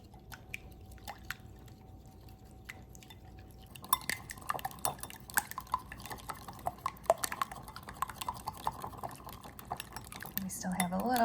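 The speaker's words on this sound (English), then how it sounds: "we are going to stir this up" Brownie batter with maple syrup added gets stirred in a bowl, light sticky scraping and utensil taps, faint at first, then a busier run of clicks and wet stirring.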